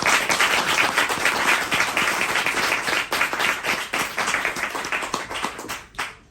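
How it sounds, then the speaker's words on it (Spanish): An audience at a talk on automatons and talking heads breaks into warm, dense applause for the presenter. The clapping is close and sustained, then tapers off near the end. "caluroso aplauso como se merece."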